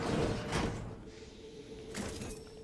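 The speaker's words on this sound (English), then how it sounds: "Hurry up, close the door, close the door." A door swings shut indoors by a bathroom, with a broad thump near the start, a quieter stretch, then a second knock or latch sound toward the end over low room noise.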